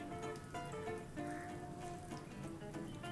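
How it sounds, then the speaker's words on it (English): Slices of bread frying in hot ghee give a steady, close crackling sizzle with fine popping spatters, constant throughout with no talking. "Now that the ghee is hot, we'll take the slices of bread and fry it"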